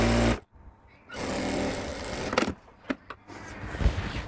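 A sewing machine runs in short bursts while stitching the collar seam of a kurti, with a half-inch seam allowance on a two-inch-wide strip of fabric, the motor whirring loudly and stopping between bursts.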